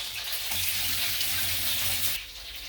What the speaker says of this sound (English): I'm going to fill up maybe half a little cup of water